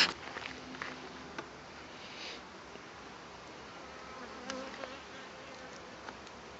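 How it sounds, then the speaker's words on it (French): Small first-year swarm of honey bees at an apiary, a steady close buzzing drone of many insects with occasional louder passes and faint handling clicks, no talking. "c'est un petit essaim de cette année"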